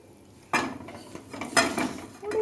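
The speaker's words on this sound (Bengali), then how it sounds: "এবার মাছ আলু সব দিয়ে দেব" Fish and potatoes tumble into a simmering pot of Bengali fish curry, a few clattering splashes and metal scrapes against the pot at close range, with no talk.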